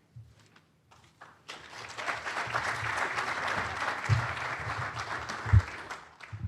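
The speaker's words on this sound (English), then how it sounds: "thanks whoever started the applause" A leadership summit audience breaks into applause: a few scattered claps first, then a full, sustained round of clapping that tapers with a couple of late claps at the end.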